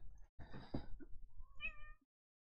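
A cat meows clearly and close by in a quiet room, a single drawn-out, wavering call of about two seconds.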